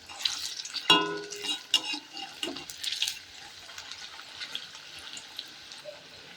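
Spinach pakoras being flipped over in hot oil, giving a soft continuous sizzle with a few sharp clinks and splashes early on.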